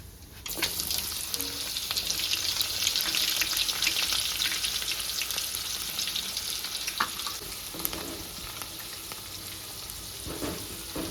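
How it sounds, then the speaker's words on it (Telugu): Chopped onions fry in hot oil with mustard seeds and cumin for a bitter gourd masala curry, sizzling loudly and continuously up close with occasional stirring clinks and no speech. "కొంచెం ఆవాలు జీలకర్ర వేసుకోవాలి తర్వాత కట్ చేసుకున్న ఉల్లిగడ్డ వేసుకుంటుండా"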